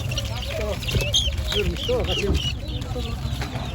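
Tokat chickens and chicks cluck and peep at an outdoor poultry market in Ankara, the calls overlapping in a busy mix under nearby talk and a low background hum.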